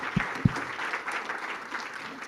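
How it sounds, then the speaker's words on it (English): Applause from an audience at a university venture competition finals event, a steady, moderately loud patter of clapping filling the room, with two sharp nearby claps at the start. "round of applause for all of them"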